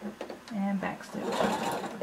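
A sewing machine runs in quick back-and-forth bursts, backstitching a seam on a fringe kimono, close up, with a voice speaking briefly over the stitching.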